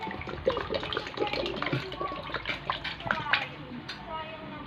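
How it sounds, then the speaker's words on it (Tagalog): Mogu Mogu drink is poured into a Tequila Rose mix, giving a soft splashing, glugging liquid sound close by, with a voice talking over it. "Buhos natin lahat."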